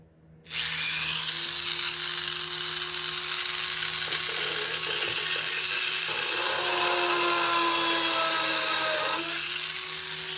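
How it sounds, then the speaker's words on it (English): A right angle drill with a 1/8 inch bit starts up and runs continuously at a steady high whine for several seconds, close and loud, its pitch dipping briefly as it bites into a pilot hole. "I can take my right angle drill with a 1/8 inch bit in it"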